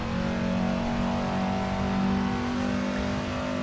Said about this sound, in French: Voilà, 206 RC, le boucan qu'elle fait quand elle passe.